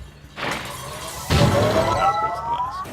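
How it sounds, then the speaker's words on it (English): Glass shatters in the puzzle video game Quantum Conundrum, two sharp crashing bursts followed by a rising tonal whine from the game, loud and close. "Now it breaks the glass."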